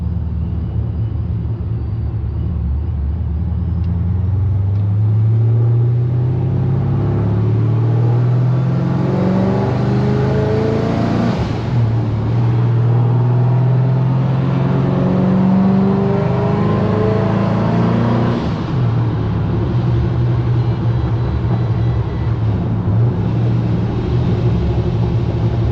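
A Pontiac GTO with an LS engine and a ProCharger supercharger, running on E85 fuel, is driven on the street. The loud, close engine drones and rises through repeated revving sweeps for the whole stretch, with no voices.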